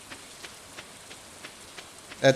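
Rain in the farming game Stardew Valley patters in a soft, even wash with faint regular ticks, ending in a brief louder game chime.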